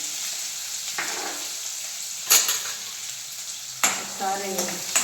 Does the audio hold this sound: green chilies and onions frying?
yes